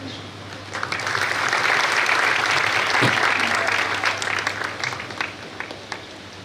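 An audience at a Kharva community Saraswati honour ceremony claps steadily in a sustained, dense round of applause that stays full and even before tapering slightly at the end.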